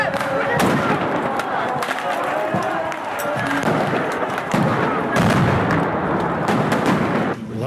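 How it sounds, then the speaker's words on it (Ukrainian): Police stun grenades explode during a street riot in Kyiv, with repeated sharp bangs amid a loud, chaotic crowd roar and voices throughout. "Ті навзаєм стріляли шумосвітловими гранатами."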